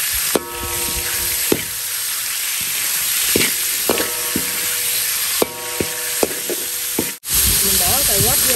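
Garlic sizzles steadily in hot oil in a pan, a loud continuous crackling hiss broken by a few clattering stirs, with brief voice-like tones drifting in near the end.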